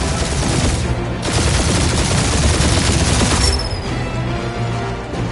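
A dense, continuous stream of automatic gunfire and blasts roars through a Guardians of the Galaxy ship battle, loud and unbroken, before it briefly thins near the end.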